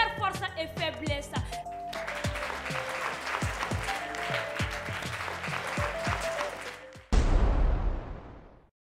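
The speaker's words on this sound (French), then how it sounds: "On applaudit également." Audience applause at an African entrepreneurship and cinema event, steady clapping laid over a bright musical track with plucked and struck notes, ending in a sudden loud burst of clapping that fades out.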